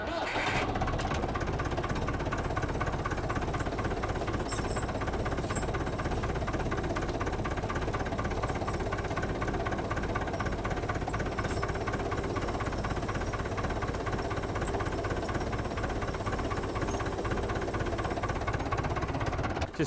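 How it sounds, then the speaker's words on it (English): A tractor engine fires up and settles into a steady, loud idle with constant mechanical rumble and knocking vibration, recorded close by outdoors during snow chain fitting. "Now we're just going to start the tractor and drive the chains on."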